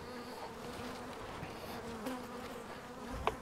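Steady, dense buzzing of many honey bees close by, a continuous droning hum with a brief louder rise near the end.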